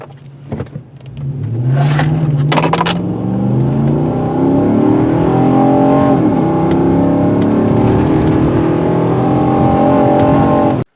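Nissan Titan pickup truck accelerating hard during a 0 to 60 run, the engine note climbing steadily through rising gears, loud and close from start to finish after a few brief clicks.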